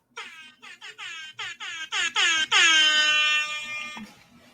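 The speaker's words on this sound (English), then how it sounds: "let me get my air horn ready" An air horn sound effect played from a phone app: about ten short, loud blaring blasts in quick succession, then one long sustained blast that fades out.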